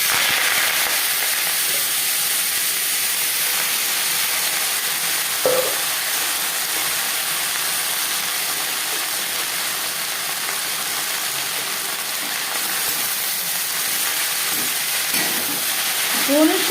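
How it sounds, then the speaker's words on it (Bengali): Drumstick leaves frying in hot oil with whole cumin and chilli, a loud continuous sizzle and hiss close by, with a couple of faint scrapes as the pan is stirred. "লঙ্কার সাথে 20-25 সেকেন্ড জিরে ভেজে নেওয়ার পর দিয়ে দেবো সজনে পাতা।"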